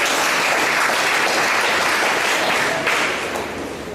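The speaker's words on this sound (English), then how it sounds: "put your hands together, round of applause" A large crowd at a community executives' introduction event gives a dense, continuous round of applause, loud and sustained before easing slightly at the end.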